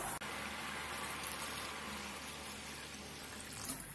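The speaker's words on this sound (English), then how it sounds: "Once the oil starts separating, add in more water." Water is poured into a pan of Bengali lentil-cake curry (dhokar dalna) where the oil has begun separating, giving a steady rushing, sizzling hiss that holds for the whole stretch with no talk.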